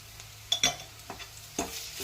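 Ginger garlic paste frying in oil for an eggplant and dried fish curry, a faint steady sizzle broken by several sharp scraping stirs and clicks of a spoon against the pan.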